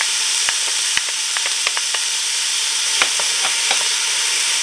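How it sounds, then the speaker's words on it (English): Zucchini and garlic sizzle in a pot, with a steady hiss of frying broken by scattered clicks and taps as the vegetables are stirred; close and alone with no talk. "stir it a little, and my zucchini, the garlic"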